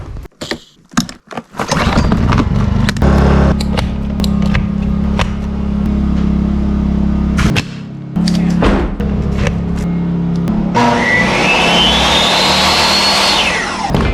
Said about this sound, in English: So I got to get the generator going, get the nail gun batteries in, and get the saw powered up